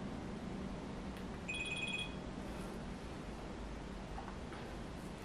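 A phone rings briefly with an electronic tone, heard faintly once over a steady background hum.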